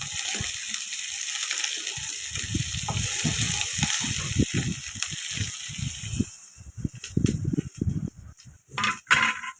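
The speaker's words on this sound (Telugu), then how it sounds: "ఇప్పుడు లైట్గా వేగాలండి బాగా ఎర్రగా" Chopped onions with a pinch of salt fry in a pan, giving a hissing sizzle that is broken up by repeated scraping and stirring strokes, growing choppier and louder toward the end.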